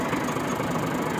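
A small Fiat tractor engine runs right after a push start, giving a steady, close, loud mechanical rumble that does not change across the short stretch, with no voices.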